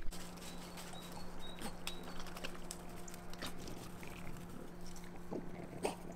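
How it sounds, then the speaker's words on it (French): Faint birdsong on a mild spring day, a few short, thin chirps heard at a distance over a steady low hum and light household clatter. "Écoutez les oiseaux."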